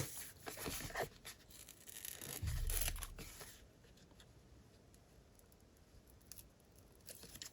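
Scissors snipping through paper while cutting out craft stamp shapes, a run of close, soft rasping cuts in the opening seconds, then quieter faint rustling and handling.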